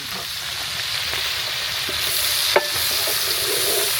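Cabbage frying in bacon grease in a pot over an open fire for Cajun outdoor cooking, a steady close sizzle with light stirring scrapes and one sharp clank near the middle.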